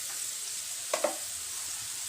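Potatoes fry in a pan with a steady, close sizzle, broken near the middle by two quick scraping knocks of a spoon stirring them.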